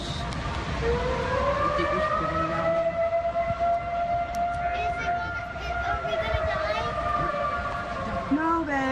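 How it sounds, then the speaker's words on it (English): Wailing civil-defense-style sirens rise and fall steadily over a continuous background rumble, loud and sustained throughout, with voices faintly audible underneath; the sirens are moving away. "You can hear the sirens"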